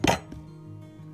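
A spoon clinks against a bowl while egg yolk is mixed with flour for a fishing bait dough, one sharp bright clink followed by a fainter tap and quiet scraping, close and alone.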